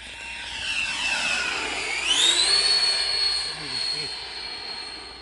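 A TomJets Squall 120 model jet on its maiden flight whines past with a rising-then-falling turbine pitch and a steady roar. People talk faintly beneath it.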